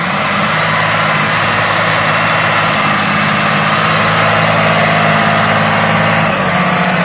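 A loud, steady tractor engine drone with a deep rumbling low end runs throughout as it pulls a Claydon Hybrid seed drill sowing oilseed rape close by, without any speech.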